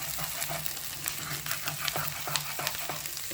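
Beef frying in a pan with garlic and ginger, being cooked down toward a black fry, makes a close, continuous sizzle broken by quick, repeated stirring scrapes.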